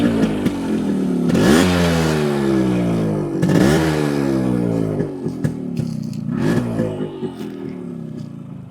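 A Yamaha RX100 motorcycle engine starts and runs, its loud exhaust revving up sharply twice and dropping back to idle, then blipping in shorter bursts; nearby voices are faintly heard under the engine.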